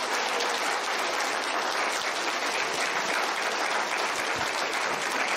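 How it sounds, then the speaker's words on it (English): Steady, dense applause from an audience at a local all-candidates council meeting, broad and continuous for the full stretch with no voices breaking through. "please give them all a big round of applause."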